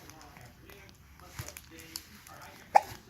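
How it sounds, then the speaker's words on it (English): A few small hiccups sound faintly and sporadically, with one sharper hiccup near the end, amid soft background talking. "The mean old hiccups got you"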